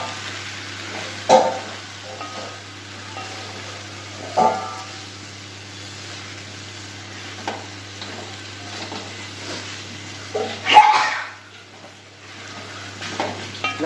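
Cassava (kappa) frying in a pan, stirred for kappa puzhukku: a steady low sizzle broken by several sharp scraping clatters of the spoon against the pan, close and fairly loud.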